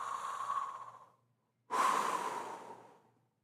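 A storyteller imitates breathing with two slow, audible breaths, a long exhale, a short pause, then a sharper, louder breath that fades away, close and alone.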